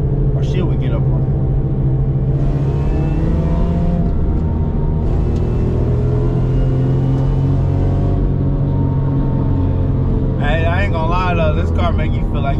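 A manual stick-shift car on the road gives a steady low engine rumble and road drone from inside the cabin. A voice breaks in briefly near the end.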